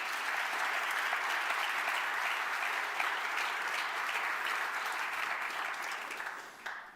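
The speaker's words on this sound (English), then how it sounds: "Please once again give them a big round of applause." Conference audience giving a round of applause for newly selected health startups, dense and steady clapping that stays level for several seconds before tapering off near the end.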